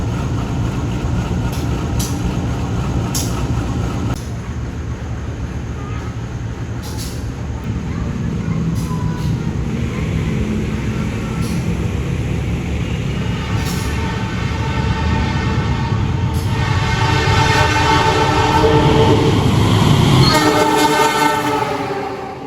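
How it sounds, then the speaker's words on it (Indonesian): Turangga passenger train passing during an overtaking stop at Klaten station in Indonesia, a loud continuous rumble of wheels and cars with rising rail squeal and clatter toward the end, heard from nearby. "kita lihat proses penyusulan KA Turangga di stasiun Klaten"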